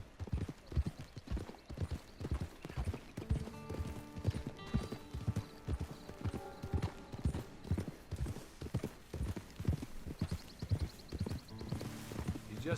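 Horse hooves clip-clopping in Red Dead Redemption 2, a steady rhythmic trot of close, clear hoofbeats running the whole time with faint music and a brief whinny.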